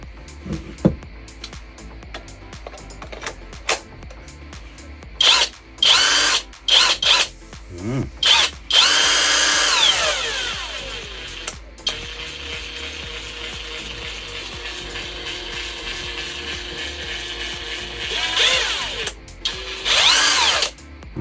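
An ONEVAN 2800 N·m brushless cordless impact wrench is tested up close in repeated bursts. It moves from short whirring triggers into a long sustained run, with clicks and handling sounds between the runs.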